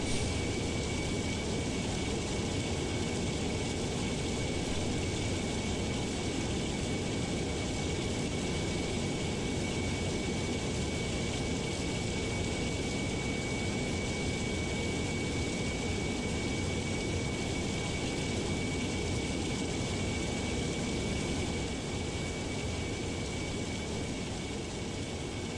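An airliner in Microsoft Flight Simulator, a Qatar A350 flying from Geneva, roars steadily through its takeoff run as a constant, loud, broadband engine rush with no talking.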